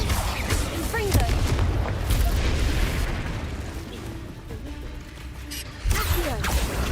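Confringo blasting spells go off in the Hogwarts Legacy video game, a run of loud booming bursts and crashes over a dense mix of game sounds, with a person speaking.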